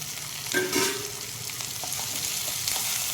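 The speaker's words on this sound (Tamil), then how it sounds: "நல்லா வதங்கட்டும் வெங்காயம்" Onions sautéing for onion chutney, with dried red chillies and tomato added to the pan, make a steady broadband sizzle. A few louder stirring scrapes come early, then an even frying hiss carries on alone.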